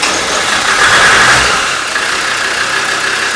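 A Land Rover engine, just repaired after a throttle fault, catches and runs steadily at close range, holding a loud, even idle with a slight rise in revs near the start and no voices.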